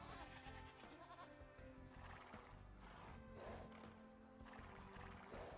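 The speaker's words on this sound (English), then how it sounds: "We are still missing one group of goats" Goats in the strategy game Age of Empires II, a mix of bleats and animal calls over a busy, continuous game soundscape of overlapping effects, moderately loud throughout.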